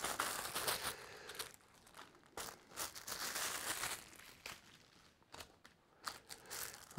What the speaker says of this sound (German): Ah, knistern, immer wieder schön fürs Mikrofon.